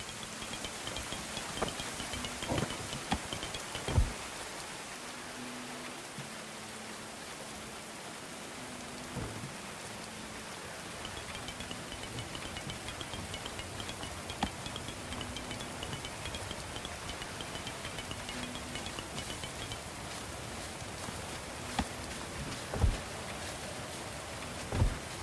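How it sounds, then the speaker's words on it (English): Steady rain falls throughout in the medieval colony-building game Going Medieval during a below-freezing winter cold snap, a dense even patter with a few louder drops and faint distant rumbles. "It's below freezing and raining."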